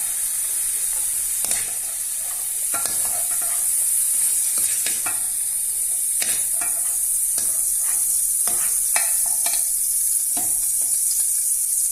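Mushrooms sizzle steadily in a kadai for a mushroom curry, with a constant bright frying hiss and repeated scraping stir strokes of a spatula against the pan throughout.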